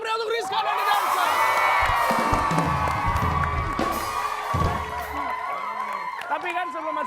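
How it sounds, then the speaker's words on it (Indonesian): A TV studio audience cheers and shouts loudly throughout after a dance performance, with whoops rising over the din and a voice speaking over the noise. "Sekali lagi tepuk tangan yang meriah untuk Rizka dan The Dancer."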